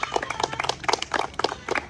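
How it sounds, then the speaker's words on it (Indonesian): A group of students claps for another student group during a physical education lesson on fitness, the claps coming in uneven bursts at moderate loudness with no talking. "Berikan tepuk tangan untuk kelompok singa ya"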